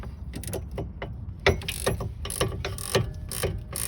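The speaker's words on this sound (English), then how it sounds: "I'm gonna simply put my wrench on that" A wrench works the nut on a Pontiac G6 GT front strut, giving a close, quick series of metallic ratcheting clicks in short irregular bursts over faint background noise.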